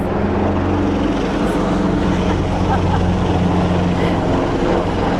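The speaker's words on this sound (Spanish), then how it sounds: "Está pasando un helicóptero." A helicopter passes overhead with a loud, continuous low rumble and rotor drone filling the whole stretch, while people talk over it.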